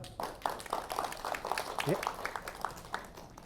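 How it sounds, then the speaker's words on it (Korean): An audience applauds to welcome a lecturer at a public colloquium on Goguryeo history in Yeoncheon. Dense, steady clapping fills the room while a voice talks over it. "박수를 모시겠습니다."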